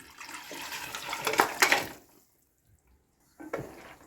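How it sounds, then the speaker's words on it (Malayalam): Cooked mutton, pressure-cooked through ten whistles, is poured wet into curry gravy, giving a sloshing splash for about two seconds, then a pause and a short second splash. "ഇനി ഇത് നമ്മളുടെ ഗ്രേവിയിലേക്ക് ഒഴിക്കാം"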